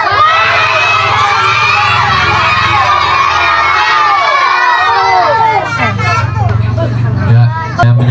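A mosque or religious gathering crowd at an evening Isra' Mi'raj sermon shouts back a response to the preacher, a loud sustained roar of many voices filling the space, swelling near the end.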